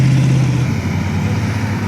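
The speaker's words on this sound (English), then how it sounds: "Big truck coming up." A big business truck passing near a sandhill, its loud steady engine rumble and drone filling the short stretch at close range.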